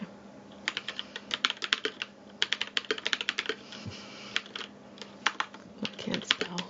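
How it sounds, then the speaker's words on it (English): Typing test on a KBD67 Lite R3 mechanical keyboard fitted with POM keycaps: close, quick bursts of crisp key clacks in uneven runs with short pauses, alone and fairly quiet. "Try doing that typing test."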